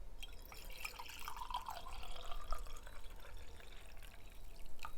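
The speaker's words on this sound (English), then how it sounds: "here's my water. Refill it." Water poured to refill a drinking glass in a kitchen, a soft steady trickle and dripping splash running continuously at close range, quiet and without talk.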